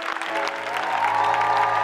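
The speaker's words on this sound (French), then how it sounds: "Est-ce qu'on peut acclamer pour le pasteur Matita et son épouse?" Church seminar audience in Cergy applauding a pastor and his wife, dense steady clapping from a crowd swelling slightly over two seconds with a faint voice underneath.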